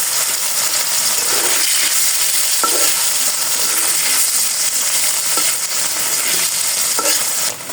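Paneer frying in hot oil with cumin seeds: a constant dense sizzle, with a few sharp clicks from stirring scattered through it, close and unbroken, with no talk.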